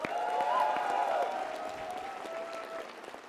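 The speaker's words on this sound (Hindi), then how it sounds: "जोरदार तालियां होनी चाहिए।" A crowd claps in a steady burst of applause that stays fairly loud, then thins slightly toward the end, with a faint voice briefly mixed in.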